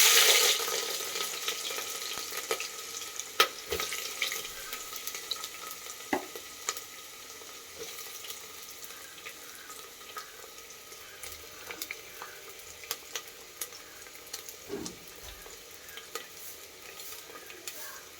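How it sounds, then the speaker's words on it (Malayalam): Ginger fries in hot oil in a pan, a soft continuous sizzle with occasional stirring scrapes and clicks, quiet and steady throughout. "ചൂടായ ചട്ടിയിലേക്ക് എണ്ണ ഒഴിച്ചിട്ടുണ്ട്. ഇനി ഇതിലേക്ക് നമ്മൾ ആദ്യം ഇഞ്ചിയാണ് ഇടുന്നത്."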